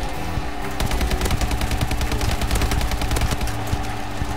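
Rapid automatic gunfire rattles in a team deathmatch shooter video game. It starts with a few shots, then becomes a dense, loud, sustained burst of fire that runs to the end, with no talking.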